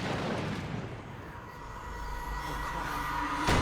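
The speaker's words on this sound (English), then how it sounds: "That's not a school bus, that's a train." A train passes in the Alan Wake video game, making a steady, loud rumbling roar with a faint wheel squeal and a rising rush near the end, with no talk.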